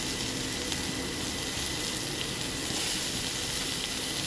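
Steady, loud frying sizzle of onion, garlic, spices, carrots and green beans in a hot pan, a continuous hiss with no pauses and no voices.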